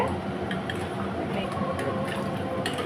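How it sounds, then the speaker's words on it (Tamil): Water is poured into sugar payasam cooking in a pot, giving a steady, close liquid splashing and bubbling sound throughout. "இப்போ நம்மளை கொஞ்சம் கெட்டி ஆகிடுச்சுங்க நம்ம தண்ணி விட்டுக்கலாங்க"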